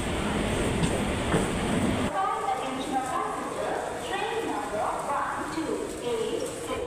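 A Tatanagar–Kharagpur passenger special train rolls into Kharagpur junction alongside, its wheels clattering in a steady rhythm under loud rumbling, heard from a neighbouring moving train.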